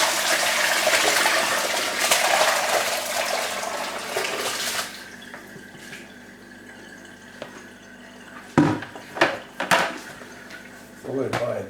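Jug water pours and splashes over coconut husk for a rinse, a loud steady gush for several seconds before fading to quieter drips and a few sharp knocks and splashes.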